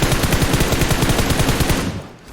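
Loud automatic gunfire in PUBG Mobile's heavy weapons mode, a rapid sustained burst of close shots that cuts off abruptly near the end.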